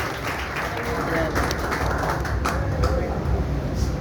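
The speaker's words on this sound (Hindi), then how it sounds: "एक बार तालियों के साथ सभी का स्वागत" Audience clapping in welcome for performers of a stage drama, a steady dense wash of applause from a crowd, moderately loud and sustained without pause.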